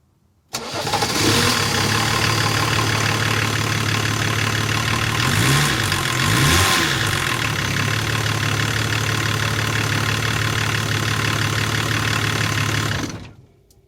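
A BMW E36 325 TDS diesel engine cranks and catches, then settles into a loud, steady, close idle with a clattery diesel knock and a brief rev partway through before cutting off.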